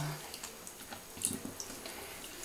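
Water being poured over a small child in a bathtub, a soft running, splashing wash with light drips, fairly faint, as an adult speaks quietly in the background.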